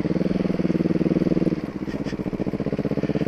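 Motorcycle engine running while riding, a close, steady pulsing drone whose note drops partway through as the rider eases off, no voices over it.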